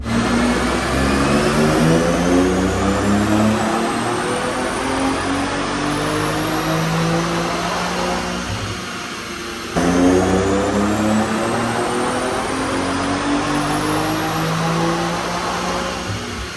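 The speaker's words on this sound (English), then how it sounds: "I am gonna show you guys some more dyno hits of this car right now with the current tune" A BMW X3M SUV engine screams through a long, loud dyno pull, rising steadily in pitch for several seconds, dropping briefly, then climbing again in a second sustained run.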